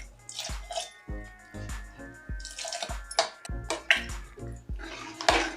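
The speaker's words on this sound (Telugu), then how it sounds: "తర్వాత దీంట్లో నీళ్ళు పోసుకోవాలి 1 గ్లాసు." A glass of water is poured into a pot of lentils with cucumber pieces, chilli and turmeric, making close, irregular splashes and drips with small clinks of the vessel, in short uneven bursts.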